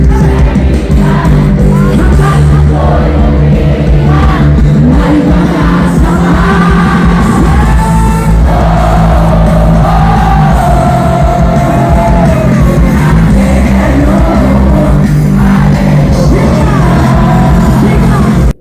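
A concert crowd cheers and yells over loud live music, with whoops and shouts rising above a dense, booming wash of sound that fills the whole stretch.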